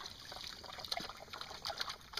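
A stream trickles and burbles softly in a hollow, with faint, continuous splashes and small gurgles close by.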